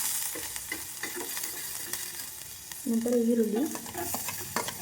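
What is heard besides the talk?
ginger garlic paste frying in ghee, stirred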